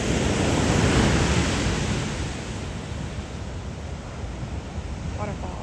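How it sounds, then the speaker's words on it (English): Ocean surf washing over a coastal rock along 17 Mile Drive and pouring off, a loud broad rush swelling in the first couple of seconds then easing into steady gushing water. "It gets covered in water, and then there's just a waterfall for a little bit."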